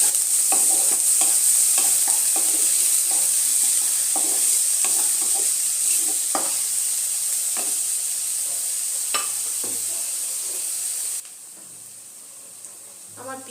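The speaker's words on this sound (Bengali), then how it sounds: "আদা রসুনের পেস্টটার সাথে পেঁয়াজটা আমি আরও 2 মিনিটের জন্য একটু ভেজে নেব" Onion frying with ginger-garlic paste in a pan gives a steady, bright sizzle, with repeated scraping stirs of a spoon. The sizzle quietens noticeably near the end.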